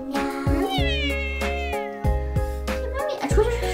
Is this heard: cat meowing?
yes